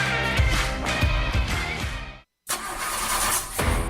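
A car engine cranks over and over without firing in a radio advertisement, one long churning crank that cuts off briefly, then a second loud cranking run.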